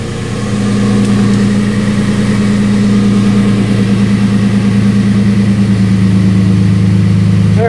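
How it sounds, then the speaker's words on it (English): A Nissan Frontier pickup with dual exhaust idles close by, its engine a loud, steady, deep rumble that settles in after a brief rise and holds evenly with no talk. "once she idles down, get a little deepness"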